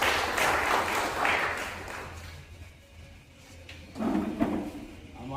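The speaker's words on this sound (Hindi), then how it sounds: "एक बार जोरदार ताली होगा।" A crowd at a Brahmin community gathering in Jhajjar claps hard in a dense, fairly close burst that dips midway and then swells again near the end.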